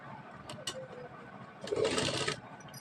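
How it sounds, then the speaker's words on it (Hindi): Sewing machine stitching the shoulder seam of a kaftan made from an old dupatta, with outer and inner fabric layers joined; a short steady whirring run in the middle of the clip follows a few light clicks. "इन दोनों को एक साथ में रख के यहाँ से सिलाई लगाना है"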